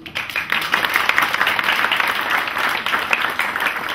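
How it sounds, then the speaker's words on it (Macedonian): Audience at a philanthropy event breaks into sustained applause, a dense, loud clapping from a full crowd holding steady for the whole four seconds. "ве молам аплауз"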